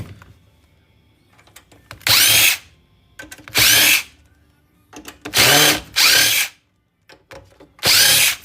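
A power drill backs screws out of a desktop computer case in five separate bursts, each about a second long, loud and close, with short quiet gaps between them and no talking.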